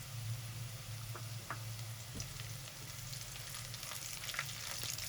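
Cumin seeds and black peppercorns frying with lightly browned garlic in hot oil, a steady close sizzle with scattered pops and crackles throughout.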